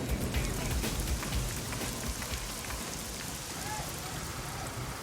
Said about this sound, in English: Then the rain comes, so we have to work with the rain, and it's coming down quite hard.